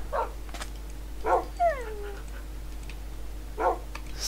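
A dog in Minecraft whines with a few short yips and one falling whimper, fairly close, over a steady low hum.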